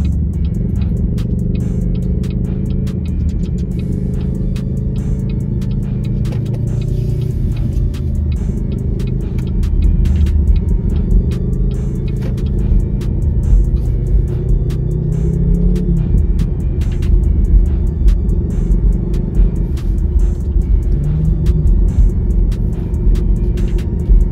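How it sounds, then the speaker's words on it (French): A BYD Sealion 7 electric car pulls away under acceleration, a continuous low hum and road rumble heard from close by that swells slightly partway through and then holds steady. "lorsque j'appuie sur l'accélérateur, il a quelques secondes d'attente avant de réagir"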